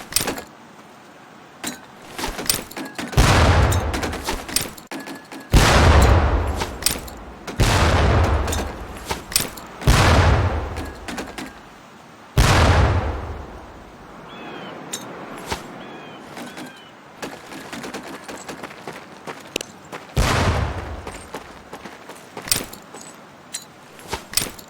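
Training grenades thrown at barrels at a Medal of Honor Pacific Assault boot camp burst in a series of loud, booming blasts every few seconds, each trailing off, with quieter rattles between.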